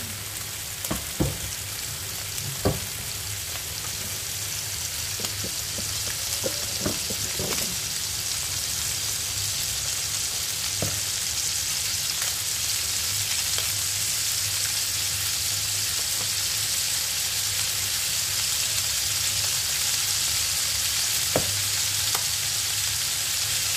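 Carrots browning in a little cooking oil crackle with a continuous, dense frying sizzle that runs throughout, with occasional faint clicks of a utensil stirring the pan.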